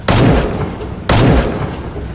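Two loud, sharp gunshots from a zombie shooting video game ring out about a second apart, each followed by a short booming decay, with no voices over them.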